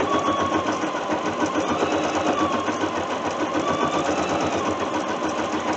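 Embroidery machine stitching a coffee cup cozy in the hoop, a steady, rapid mechanical whirring and needle chatter running continuously at close range without pause.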